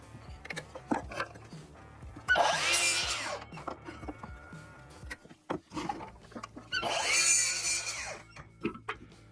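Pieces of scrap wood cut into legs for a dog bowl stand with a power saw, two separate bursts of whining cutting a couple of seconds each, with clunks and knocks of handling between them.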